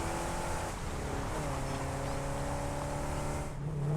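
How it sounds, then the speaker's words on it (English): A truck in the Satisfactory video game drives along with a steady engine drone and rising tonal whine, loud and continuous throughout. "Driving the truck."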